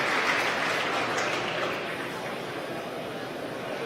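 Crowd cheering at a SpaceX CRS-12 launch as the Dragon capsule deploys, a distant broad wash of applause and cheers that fades slightly after a couple of seconds.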